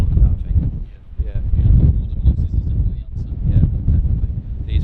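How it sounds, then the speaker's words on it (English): Strong storm wind buffets the microphone outdoors in Cumbria, a loud, gusty low rumble that swells and dips continuously, with faint rustling in the background. "It is very windy."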